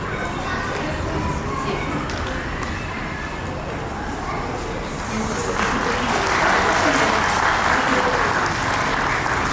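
Parents and teachers in the audience at a preschool annual day celebration applaud steadily, the clapping swelling louder toward the end, with a busy room and a voice heard beneath it.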